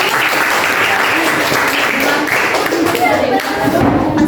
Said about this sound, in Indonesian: tepuk tangan untuk diri kalian